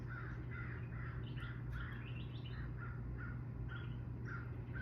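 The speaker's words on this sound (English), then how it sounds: "I hear the crows." Crows caw in a repeated, irregular series of harsh calls, moderately distant and fairly faint over a steady low background hum.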